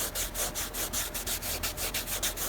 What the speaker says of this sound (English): Let's get a listen to the sound of the material once it's dry with the starch.